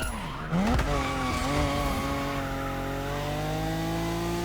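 Tires squealing as a car slips slightly under traction control and ESP in The Crew Motorfest, a steady loud screech with rising harmonic tones over continuous engine drone, following a brief low rumble at the start.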